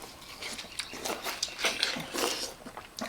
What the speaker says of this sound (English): I bet these folks don't like to hear us slurping on those watermelons.